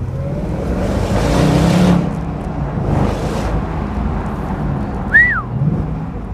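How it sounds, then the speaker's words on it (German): A Ford Mustang GT with a manual gearbox and adjustable flap exhaust accelerates out of a corner in second gear, its engine swelling to a loud rising roar and then easing, with a brief whistle-like tone near the end. "Jetzt starte ich mal direkt aus der Kurve raus"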